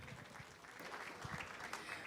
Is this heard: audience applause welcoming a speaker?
yes